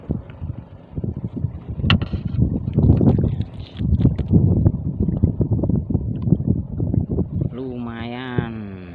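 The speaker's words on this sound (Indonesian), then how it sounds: "tapi anginnya masih kenceng, badai." Strong, stormy wind over water during a fishing outing roars and buffets close against the microphone in uneven gusts. A voice briefly cuts through near the end.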